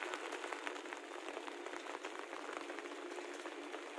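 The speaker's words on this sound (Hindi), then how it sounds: "सुबह से बारिश हो रही है" Rain falls steadily on a home garden full of flowering plants, a soft, distant patter of many tiny drops with a faint hiss.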